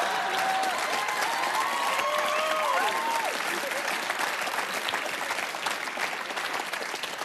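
Sustained applause from a comedy club audience fills the room, steady and loud throughout, with a few faint whistles and voices rising above it.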